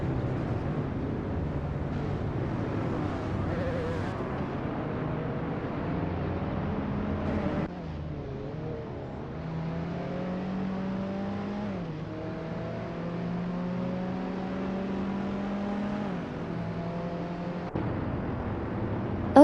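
Racing cars in a racing video game, including a 1973 rear-engined Volkswagen Beetle, rev and shift gears continuously, engine pitch climbing and falling with each change, loud and close throughout.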